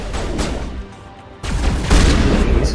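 Heavy booming blasts from the Scimitar shotgun in Mass Effect Legendary Edition, two loud close-range shots with a short gap, followed by rumbling combat noise.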